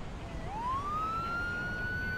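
A police patrol car siren in the video game Beat Cop winds upward in pitch, then holds a steady high wail over a soft background hum.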